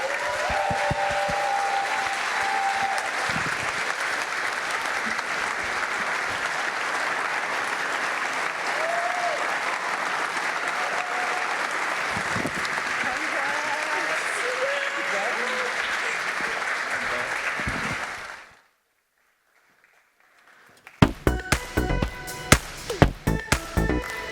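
Sustained applause from a large audience at an award show fills most of the clip, then cuts to a brief silence before a few sharp claps and noises.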